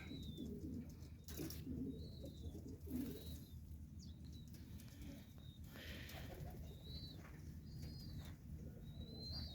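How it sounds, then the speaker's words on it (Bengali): Pigeons coo softly on a hot day, with scattered high chirps and a brief flutter of wings. The sounds are faint and a little distant. "শুধু কবুতর আর কবুতর দেখেন অবস্থা কবুতর"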